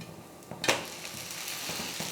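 Kollu (horse gram) dosa frying on a hot pan just after being flipped, a soft steady sizzle with a few light scrapes and taps of a spatula.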